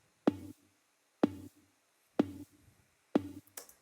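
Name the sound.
offbeat synth lead with parallel processing adding click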